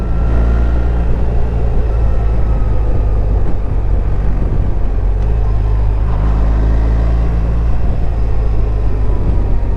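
Steady, loud low engine rumble from a BMW R1300 GS Adventure motorcycle riding through twisty roads, with wind noise over it and slight changes around gear shifts, no talk.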